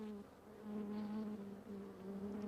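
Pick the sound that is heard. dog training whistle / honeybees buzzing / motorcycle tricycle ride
honeybees buzzing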